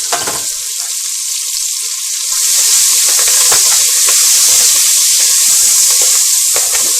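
Sliced onion frying with turmeric, bay leaf and curry leaves in hot oil for a Mangalorean chicken curry, a steady loud sizzle that swells after a couple of seconds and carries occasional crackles and stirring clicks.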